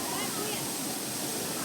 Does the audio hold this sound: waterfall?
yes